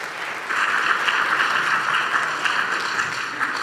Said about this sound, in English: We're going to applaud you now